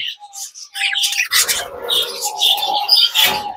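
Rainbow double-factor violet budgerigars in a breeding cage give sharp, close chirps and harsh squawks in quick, overlapping bursts.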